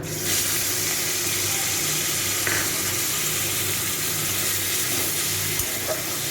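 Tomato dropped into hot oil with black cumin (kalo jeera), a steady loud hiss of sizzling frying that continues evenly throughout, with a faint clink or two near the end.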